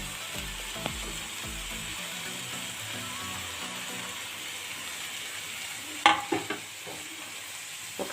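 Paneer frying in a pan, a steady soft sizzle running throughout, with a few brief clinks and stirring knocks near the end.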